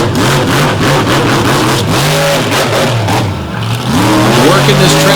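The Illuminator monster truck tears around a speedway track, its big engine roaring loud and close, rising and falling in pitch as the driver pushes through the turns, with an announcer talking over it.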